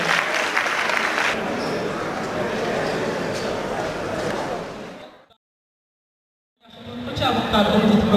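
Loud applause from an audience at an awards ceremony, dense clapping filling the room for about five seconds, then a brief silence before clapping resumes.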